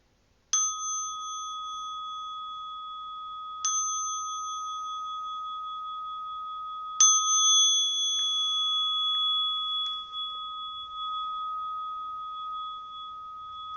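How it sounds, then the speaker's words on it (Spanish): A Zen meditation bell is struck three times, each strike leaving a long, pure, sustained ring that overlaps the next, steady and clear with no voices. "cuando suene la campana, llevas tus manos"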